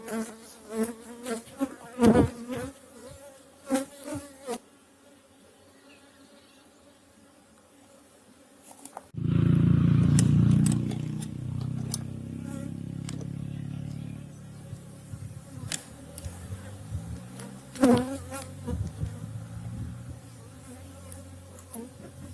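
A steady droning buzz of many honeybees near a hive among orange trees, broken by knocks and clatter of hive handling, with a louder low hum midway.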